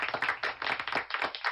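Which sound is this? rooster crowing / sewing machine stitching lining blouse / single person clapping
single person clapping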